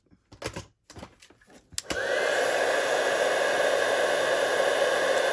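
A heat tool blowing hot air over a paper card starts abruptly after a few soft handling taps, then holds a steady, loud, even whoosh with a constant whine until the end.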